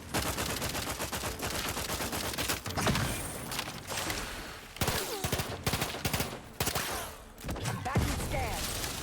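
Rapid bursts of automatic gunfire from the video game The Outer Worlds 2, loud and dense with brief pauses between volleys, with voices talking over parts of it.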